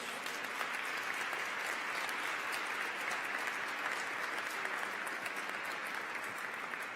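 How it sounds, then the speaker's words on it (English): Sustained round of applause from an audience at a 2016 award ceremony, steady and dense across the whole stretch with no voices over it. "I think that deserves a round of applause."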